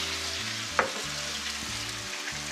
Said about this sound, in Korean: 팬에 연기가 올라오면 식용유 1큰술을 더 넣어주신 뒤 소고기를 넣고 30초마다 한 번씩 뒤집어가며 구워주도록 하겠습니다.